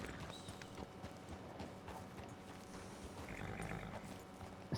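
Horse hooves clip-clop in the Red Dead Online video game, a quiet steady trot of a horse on a trail, heard alone.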